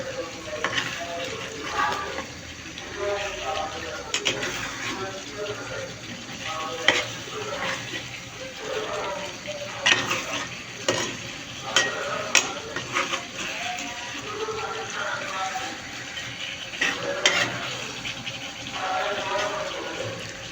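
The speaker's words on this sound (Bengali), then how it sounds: "উল্টিয়ে পাল্টিয়ে নেড়ে চেড়ে সুন্দর করে কষিয়ে নেব" Chicken roast is stirred and turned in a frying pan: a busy sizzle with repeated scraping and clattering spatula strokes, close by, while a person talks over it.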